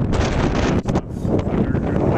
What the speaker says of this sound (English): it's super windy now because we've got a gust front coming through